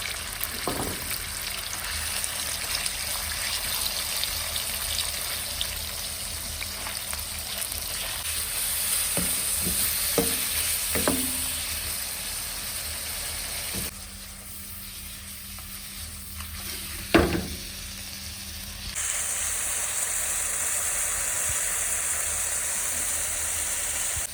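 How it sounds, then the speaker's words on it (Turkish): Meat searing in a pan of hot butter and sunflower oil in a restaurant kitchen, a loud continuous sizzle with sharp spattering pops and occasional clatter, dipping briefly before surging back. "Etimizi arkadaşlar mühürlüyoruz güzelce"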